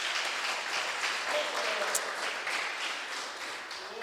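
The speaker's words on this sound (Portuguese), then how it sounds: "Você pode aplaudir o Senhor que vive na tua vida." A church congregation applauds the Lord during a worship service: dense, steady clapping fills all four seconds at a moderate, even level.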